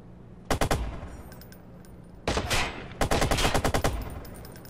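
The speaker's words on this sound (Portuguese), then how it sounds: "ele tá atirando" Gunfire in Watch Dogs on Xbox One: loud, close bursts of rapid automatic shots in three volleys, each with a dense rattling rhythm and brief pauses between them, no speech.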